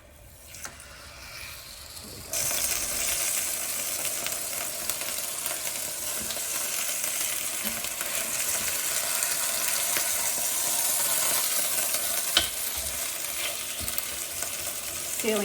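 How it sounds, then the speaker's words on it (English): Osso buco shins searing in olive oil in a pan, a steady close sizzle that starts sharply after a quieter moment and continues with occasional clinks and stirring. "So we're just going to sear the osso buco shins first."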